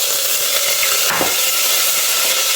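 Urad dal, cumin seeds and curry leaves frying in hot oil make a steady, close, broadband sizzle that holds evenly throughout, with a brief louder crackle midway as more goes into the pan.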